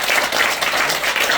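Audience applause at a church special retreat gathering, a dense, steady wash of many hands clapping together throughout, fairly loud and close with no talk over it.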